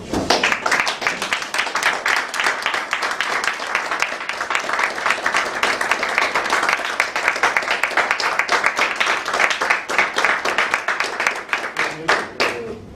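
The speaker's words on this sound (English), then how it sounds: "Please help me, under your warm applause, Toastmaster Jibril Traore." Warm applause from a Toastmasters meeting audience welcoming the next speaker, steady dense clapping sustained throughout at fairly close range, with a few individual claps standing out toward the end.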